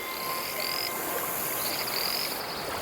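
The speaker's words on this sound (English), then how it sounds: "these poisonous frogs are lethal to many species that make the mistake of eating them" Poisonous invasive frogs croak in a dense, steady chorus at freshwater, a continuous loud wash of overlapping calls with no voices.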